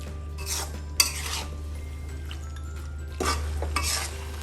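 Tamarind pulp for a chalta pickle is stirred in a pan, with a few close bursts of spoon scraping against metal, a sharp clink, and a faint sizzle over a steady low hum.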